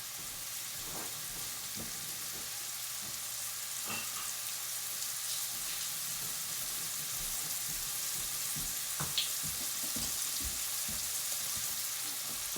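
Bay leaves and oregano cooking in a pan, giving off a faint, steady low sizzle with a few soft scattered pops and taps.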